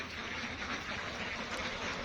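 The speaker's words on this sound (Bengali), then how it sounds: "1000 হাঁস দেখেন কত সুন্দর ভাবে খাবার খায়" A flock of about a thousand ducks feeds inside a closed pen, giving a faint, continuous wash of quacking and dabbling noise with no single call standing out.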